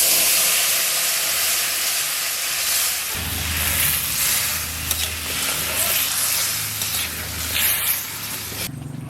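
Magur fish curry sizzles and hisses loudly in a hot pan, a steady frying roar that deepens partway through as more liquid goes in, continuing alone without talk.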